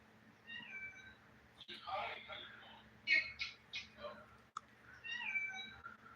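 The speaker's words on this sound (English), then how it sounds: "That's a cat." A cat meows several times nearby, drawn-out rising and falling calls, with quieter murmuring and shuffling sounds between the meows.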